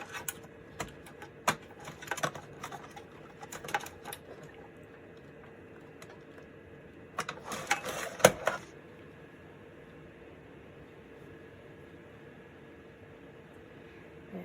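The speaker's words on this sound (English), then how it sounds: "I don't like the grinding noise in this thing either" A Compaq Prolinea 4/25S PC's drive gives off faint clicks and scratchy grinding bursts in clusters over a steady low electronic hum, then settles into the hum alone.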